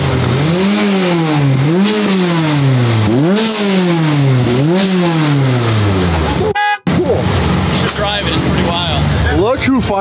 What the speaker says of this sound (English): Yeah, rev it up, my man.